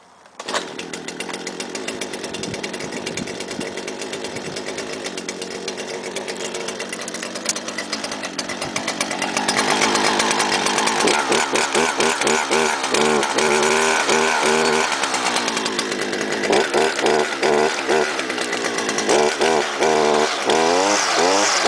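A petrol string trimmer starts up with a rough, buzzing two-stroke engine, first running unevenly, then louder with repeated revving surges.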